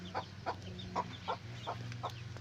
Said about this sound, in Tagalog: Ayan kanyang mga sisiw.